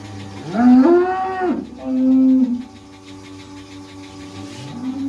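A cow in labour moos loudly and long, twice in close succession, with a rising, strained bellow starting again at the end; no voices.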